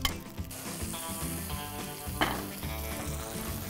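A generous knob of butter sizzles and spits in a hot pan at a campside cook-up, a close crackling hiss mixed with clinks of cookware, no speech.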